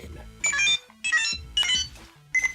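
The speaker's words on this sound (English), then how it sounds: "you need to actually prime the phone by dialing 279" Faiz Phone toy from the CSM Faiz Gear and Driver set sounding electronic beeps and chimes as the code 279 is keyed in, three bright tonal bursts followed by a fourth, close and clear.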